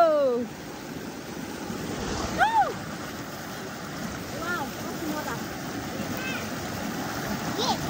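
Steady rushing of flowing water fills the background, with faint bird chirps rising above it now and then.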